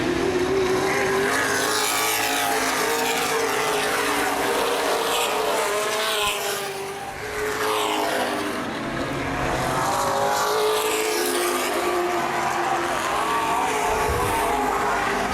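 Late model race cars roar down the back straightaway at a speedway, a loud continuous engine drone with rising and falling pitch as cars pass, dipping briefly midway before building again.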